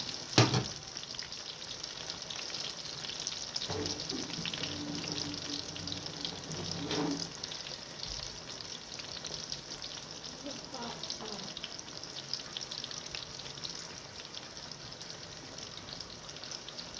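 Eggplant slices frying in hot oil, a continuous bubbling sizzle throughout, with a few short clatters and stirring or tap-water sounds rising over it now and then.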